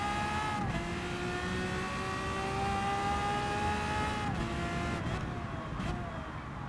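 The Lamborghini V12 Vision GT engine whines steadily in Gran Turismo 7 as the car laps a track. The high pitch holds close and constant, with brief dips where it shifts gears.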